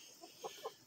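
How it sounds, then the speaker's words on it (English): A flock of chickens makes two or three short, soft clucks in quick succession, faint and slightly distant against a quiet background. "Look at all those chickens."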